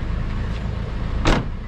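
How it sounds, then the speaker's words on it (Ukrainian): Inside a Toyota Land Cruiser, a steady low cabin hum runs throughout, broken near the end by a short, sharp whir like a power window moving. "Сьогодні наш транспорт Toyota Land Cruiser."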